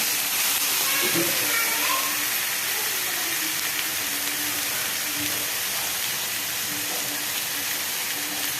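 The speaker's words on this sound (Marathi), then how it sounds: "मसाल्यामध्ये छान असा फ्राय करून घेऊयात।" Chickpeas fry in hot masala for chana masala, a loud, steady sizzling hiss that goes on throughout, with a faint voice underneath.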